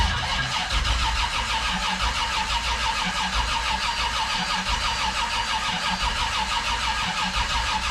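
An old car's engine cranks on a cold start: a loud, close, rhythmic starter churn that repeats steadily throughout, with no talking.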